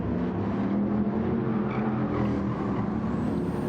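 Race car engines from BMW and Porsche German touring cars in a racing video game at Interlagos, a continuous loud engine drone with slight pitch shifts, steady and unbroken.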